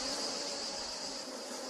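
Bees buzz near a hive in a dense, continuous high drone that holds steady for under two seconds, close and even, with no other sounds or voices.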